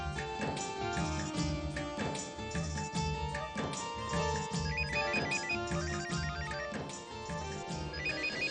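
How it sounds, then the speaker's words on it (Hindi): A phone rings with an incoming call, a melodic electronic ringtone repeating in a steady looping pattern, clear and prominent with no speech over it. "ये किसी दूसरे शहर का नंबर है, जरूर पिया का फोन होगा।"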